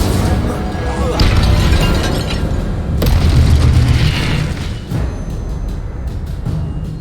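Hogwarts Legacy Incendio fire spell going off in the game, a loud booming burst with crackling fire rumble over a few seconds, a second impact partway through and a voice faintly under it.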